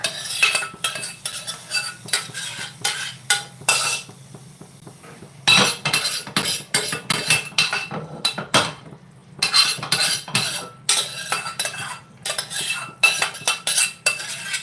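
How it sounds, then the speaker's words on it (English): Vegetables for a stir fry being stirred in a pan with a utensil, giving repeated metallic scrapes and clinks in irregular bursts with short pauses, close and fairly loud, no talking. "So you just give it a stir and add it back."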